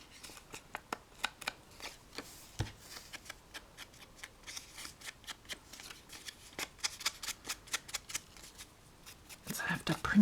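Small scissors fussy cutting a paper squirrel for a collage: a long run of quick, crisp, close snips in an irregular rhythm, growing busier near the end, with no talking.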